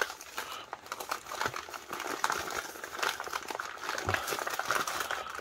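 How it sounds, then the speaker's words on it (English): Wrapping paper crumples and tears continuously during the unboxing of an S.T. Dupont metallic fountain pen, with dense, close crinkling and sharp rips throughout and no talking. "wrapping paper."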